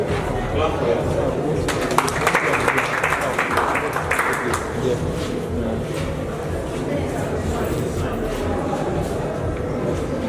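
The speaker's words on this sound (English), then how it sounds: "clap for yourself." Audience clapping at a university entrepreneurship presentation, a dense, moderately loud patter of many hands that swells briefly early on and runs under a murmur of crowd voices.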